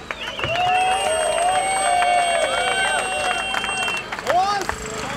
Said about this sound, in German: Bitte einen dicken Applaus für Horst is Guilty.